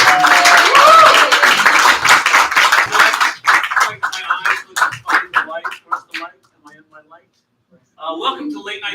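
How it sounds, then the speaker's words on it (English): Audience applause at a live late-night comedy show with a light crowd: a dense burst of clapping swells at the start, then thins and fades, while a voice talks over it. "let's put your hands together"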